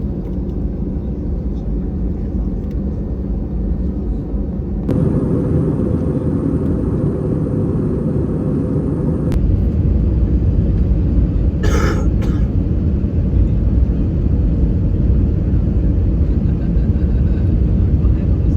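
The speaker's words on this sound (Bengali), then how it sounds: "আমরা শারজা ইন্টারন্যাশনাল এয়ারপোর্টে ল্যান্ড করলাম" Cabin noise of an airliner landing at Sharjah International Airport: a constant low rumble that shifts in level partway through, with a brief cough and faint voices nearby.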